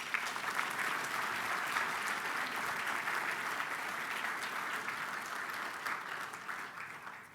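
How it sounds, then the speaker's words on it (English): An audience at an Alpha Ball gives a warm round of applause, dense sustained clapping that carries evenly for several seconds before starting to fade. "let's give them a warm round of applause"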